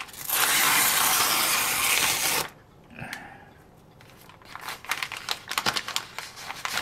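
A postal package sent from the United States is handled and crumpled, giving a loud, continuous crinkling rustle of wrapping that stops abruptly, followed by quieter scattered taps and rustles close by.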